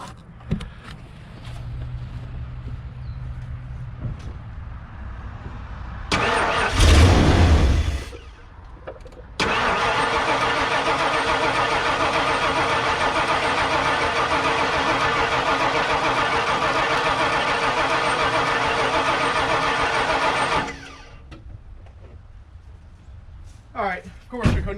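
An old plow truck engine cranks on a starter for about ten seconds, a loud sustained whirring churn, without catching and firing, then stops. Quieter clicks and faint talking come before and after, and a short, louder mechanical burst precedes the cranking.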